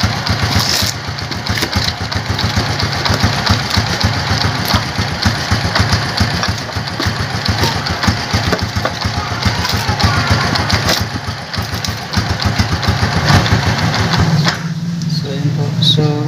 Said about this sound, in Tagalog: kaya pag bumubuka yung mga arm ng primary clutch, yan po yung tumutunog. Parang paisa-isang lagatok.